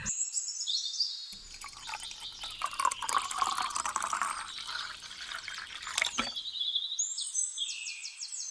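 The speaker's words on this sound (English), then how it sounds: "strain the water out of the jar" Water strained out of a jar of soaked paper for handmade paper, a steady close pour and trickle for several seconds with faint chirps before and after.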